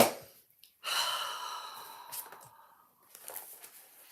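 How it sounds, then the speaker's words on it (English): A person taking a slow, deep breath in, a long airy inhale heard up close and fairly loud, followed by softer breathing noises. "just have a nice breath"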